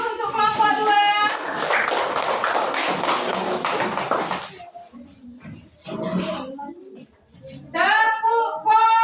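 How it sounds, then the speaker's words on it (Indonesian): A school classroom applauding a student group after their presentation: a burst of scattered clapping in the first half, then fading, with voices speaking before and after it. "Kasih aplaus untuk kelompok 2"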